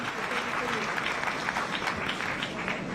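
Audience at a live evening news event applauding a moderator, a dense, steady wash of clapping from a sizable crowd with faint voices underneath.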